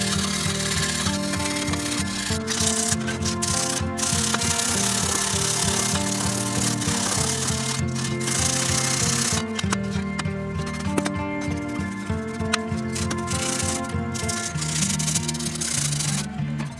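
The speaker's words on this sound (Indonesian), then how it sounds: "Kita bersihkan juga kotoran karat pada base plate trapo." Rust being scrubbed off the transformer base plate of a vintage Marantz PM350 stereo power amplifier during restoration, a continuous harsh rubbing and grinding buzz, loud and close, with no speech.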